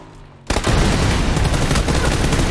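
Sudden loud gunfire and an explosion in PUBG burst in after a quiet half-second, followed by a dense, sustained roar of booming blasts and crackling shots filling the rest.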